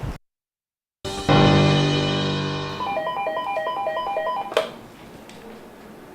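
A telephone rings with a bright electronic ringtone in a short repeating melodic pattern, loud and close after a brief silence, then cuts off as the call is answered.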